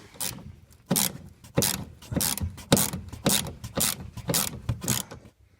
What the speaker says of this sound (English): It's a 10 millimeter bolt. So just get a 10 millimeter ratchet to take them off.